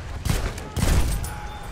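Battlefield 1 gunfire crackles in two dense bursts, a volley around the first third and a heavier stretch near the middle, loud and close with a noisy tail and no speech.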